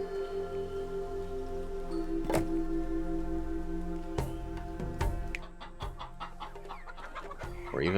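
Chickens cluck in the game Laysara, set on a snowy mountain summit, with scattered short clucks and pecking ticks over a steady musical background.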